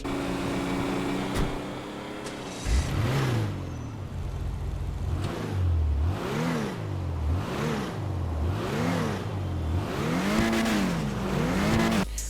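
Car engine in GTA Online revving up and down in repeated rising and falling sweeps, loud and steady over a constant game background hum, with no talking.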